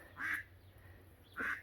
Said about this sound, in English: The ducks are coming up to be fed.